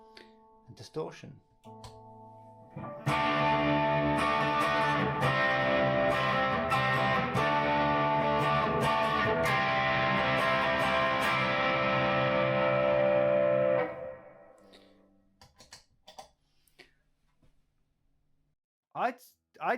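A thick, buzzy electric guitar chord through a distortion effect, sustained for about ten seconds, preceded and followed by a few quieter plucked notes.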